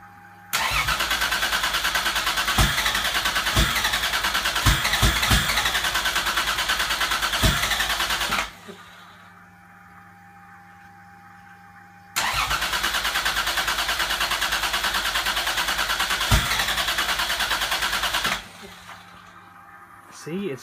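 A Toyota 2JZ engine cranks over and over without catching, a loud droning starter whir in two long bursts of about eight and six seconds, separated by quiet pauses where a faint background hum remains.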